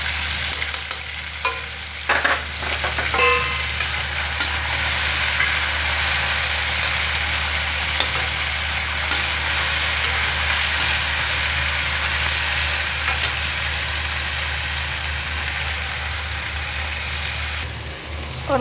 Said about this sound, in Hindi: इसमें डालेंगे पहले हम टमाटर, डालेंगे थोड़ी सी घी